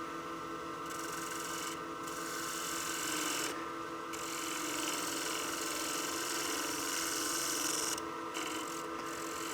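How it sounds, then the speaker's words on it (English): A gouge on a wood lathe takes light cuts on a spinning wooden coin box, making a steady scraping rasp with a humming motor underneath, broken by several brief pauses as the tool lifts off. "We're just taking very light cuts to even up the surfaces"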